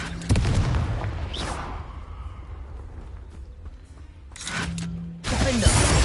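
A Confringo blasting spell exploding in the Hogwarts Legacy video game, heavy booming bursts with a sustained rumble, a second burst later and another loud blast at the end.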